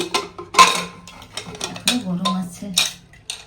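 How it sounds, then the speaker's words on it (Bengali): Metal clatter as a pressure cooker of cooked mutton is opened in a home kitchen: sharp clanks and scraping of the lid and pot, a few distinct knocks spaced irregularly, close and fairly loud, with brief quiet gaps between. "এবার প্রেসার কুকারটা খুলে মাংসটা একবার দেখে নেব"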